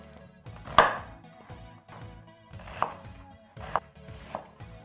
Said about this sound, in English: what I'm gonna do is I'm gonna slice out the onions